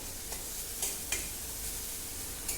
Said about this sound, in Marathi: आता हा जो कांदा आहे तो छान परतून घ्यायचा आहे